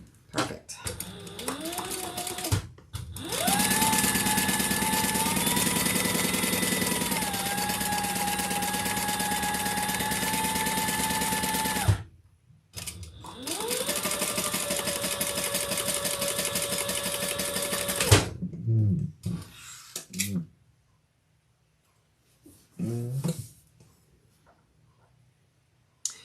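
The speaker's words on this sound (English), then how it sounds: "Let's sew this at the seam allowance in the pattern." A sewing machine stitches a leather seam in two long, steady runs of fast mechanical whirring, close and prominent, separated by a short pause and followed by quieter handling sounds.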